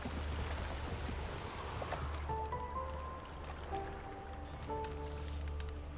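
Continuous soft rain patter from The Witcher 3: Wild Hunt fills the background beneath a low hum and a few quiet, sustained musical notes.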